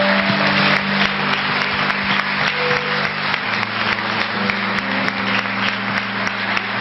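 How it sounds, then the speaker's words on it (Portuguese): A church congregation applauds in a sustained, dense burst of clapping that fills the hall throughout, loud and continuous with faint organ-like tones underneath. "Vamos dar mais uma salva de palmas a Jesus?"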